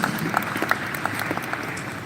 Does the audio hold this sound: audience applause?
yes